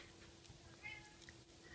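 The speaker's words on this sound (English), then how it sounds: "that was my cat" A house cat meows once or twice, faint and in the background of a quiet room while crochet work with loom bands goes on.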